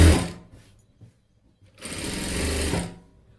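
A sewing machine stitches the lining onto a work blouse sleeve in two loud bursts, a short run at the start and a longer steady run after a quiet pause.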